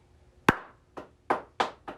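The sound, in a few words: hand clapping with cupped hands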